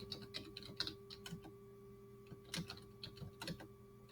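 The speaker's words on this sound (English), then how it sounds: "I'm going to type the objective." Typing on a computer keyboard, with irregular light key clicks coming in small bursts and pauses over a steady low electrical hum, fairly quiet and close.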